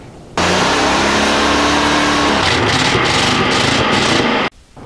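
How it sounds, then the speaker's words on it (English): A boat engine being winterized starts abruptly with fogging fluid poured into the carburetor intake, then runs loud and close, its pitch rising and sputtering before it cuts off suddenly. "start the engine"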